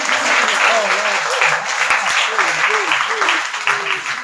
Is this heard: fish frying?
no